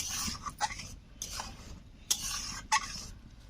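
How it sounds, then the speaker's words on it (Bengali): Tomato sauce cooking in a pan is stirred with a utensil, giving a few short scraping strokes over a soft, steady sizzle, close by and fairly quiet with no talking. "নাড়াচাড়া দিতে হবে মাঝে মাঝে।"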